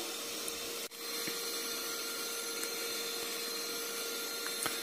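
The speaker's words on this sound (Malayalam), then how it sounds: "ആ ബൗളിലാണ് ഞാൻ വിപ്പിംഗ് ക്രീം ബീറ്റ് ചെയ്തെടുക്കുന്നത്." An electric hand beater whips cream in a chilled bowl for black forest cake icing, giving a steady, even motor whir close by that runs without a break, cut only by one brief dip near the start; nobody speaks.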